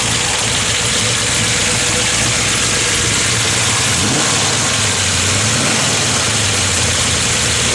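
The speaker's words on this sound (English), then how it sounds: "Again, solid roller motor." A 1970 Ford Mustang Mach 1 with a solid roller engine runs close and loud, a steady rough idle with choppy rumble and occasional blips of revving.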